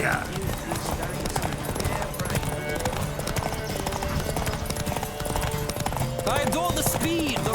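Rapid rhythmic hoofbeats of a horse galloping in The Witcher 3, steady and close, with voices speaking over them and a brief whinny near the end.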